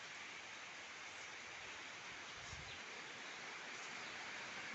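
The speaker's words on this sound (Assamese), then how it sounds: "আজি আমাৰ ফালে ইমান বৰষুণ দি আছে" Heavy rain pours steadily in a continuous, even hiss with no breaks, and a low thump is heard briefly partway through.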